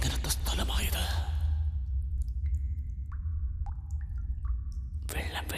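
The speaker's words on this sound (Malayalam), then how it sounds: "വെള്ളം വീഴുന്ന ശബ്ദം കേൾക്കുന്നു." Water drips in an echoing space, a few sparse, resonant plinks spaced apart over a low rumbling background, with denser, louder sound at the start and end.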